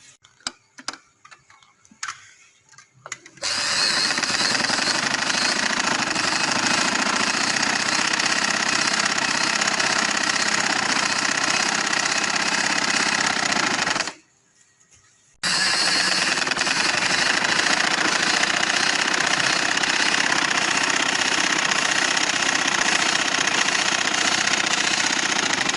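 A sewing machine stitches casual trouser fabric in two long, loud, even runs of rapid mechanical clatter. Brief irregular taps come first, and a short pause separates the two runs.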